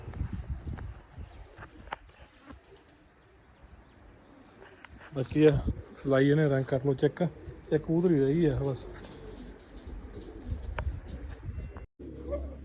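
Racing pigeons coo in a run of loud, close, wavering calls near a rooftop pigeon loft with a net, set against light background noise while someone talks.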